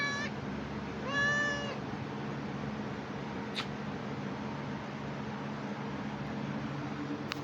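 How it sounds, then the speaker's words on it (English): A pet cat named Tanner meows twice near the microphone, short high-pitched calls early on, followed by a long stretch of steady background hiss. "my cat Tanner's back"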